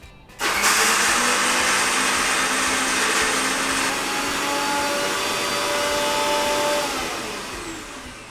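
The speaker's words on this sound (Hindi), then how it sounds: "इसको ग्राइंड कर लेते हैं" A kitchen grinder whirs loudly as it starts up and grinds soaked chana dal into a coarse batter, running steadily for several seconds before winding down.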